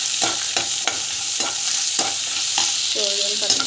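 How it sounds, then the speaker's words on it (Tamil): Chillies being stirred and sautéed in a hot pan: steady close sizzling with repeated scraping strokes of a spoon at a regular pace, with no voices. "காட்டி தேவையான மிளகாய் போட்டுட்டு"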